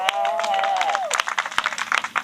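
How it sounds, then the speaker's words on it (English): A crowd at a gathering gives Director Vincent Evans a round of applause, a burst of scattered clapping that begins as a voice trails off and continues close and moderately loud. "give him a round of applause"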